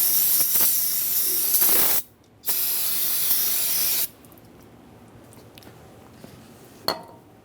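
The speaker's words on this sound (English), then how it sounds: "Clean it off with some brake parts cleaner." Brake parts cleaner sprayed onto the brake bleeder of a 2000-2007 Ford Taurus rear brake, two loud, close hissing bursts of aerosol spray, followed by quiet and a brief faint click.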